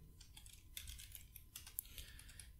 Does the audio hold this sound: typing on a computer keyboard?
yes